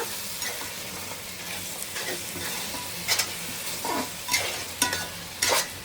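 Tomato paste fries in a pan, cooked in with pieces of fish, giving a soft, steady sizzle with several sharper spatula scrapes and stirs toward the end.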